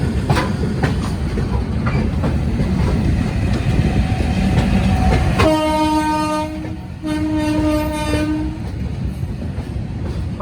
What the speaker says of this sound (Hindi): ट्रेन अपनी पहुंच गई इंदिरा जंक्शन रेलवे स्टेशन।